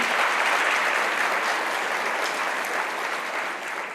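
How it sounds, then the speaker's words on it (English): An awards-ceremony audience breaks into a dense, sustained round of applause that stays loud and even before tapering slightly at the end. "Let's give Janice a round of applause"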